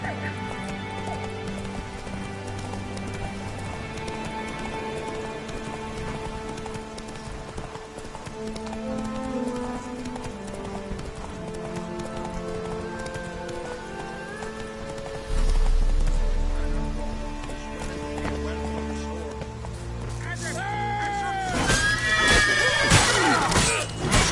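Roach the horse gallops in a video game, a steady clip-clop of hooves running under game music, with a whinny and rain-like patter near the end.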